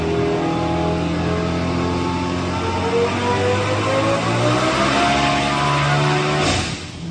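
A Lamborghini STO engine revs hard on a dyno run, a loud, close, sustained roar climbing steadily in pitch for several seconds before dropping off at the end.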